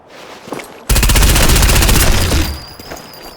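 Rapid automatic gunfire in a multiplayer video game rattles out in one loud, dense burst of about a second and a half, with quieter game noise and faint ambience before and after.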